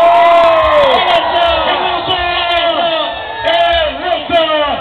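A large outdoor crowd at a political campaign rally in Lagoa Seca, Brazil, cheers and shouts loudly and continuously, with whoops and voices rising in waves.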